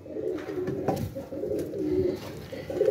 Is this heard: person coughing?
no